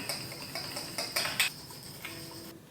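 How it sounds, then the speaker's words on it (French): Small chunk of ginger rubbed over a little Japanese grater, giving a few soft scraping clinks in quick bursts, close and fairly quiet, with a faint hum underneath and no talking. "Je vais venir râper un petit morceau de gingembre de cette taille-là à peu près."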